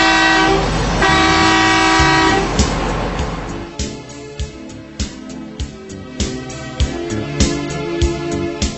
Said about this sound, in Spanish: Para salir desde la bomba de combustible, toque 2 bocinazos